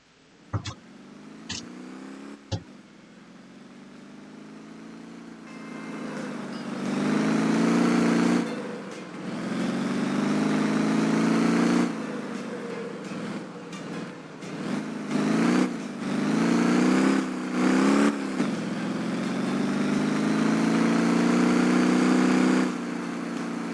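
A car engine in the Motortown driving game starts with a few sharp clicks, then idles and revs repeatedly, rising and falling in pitch as the car accelerates and eases off, loud and close.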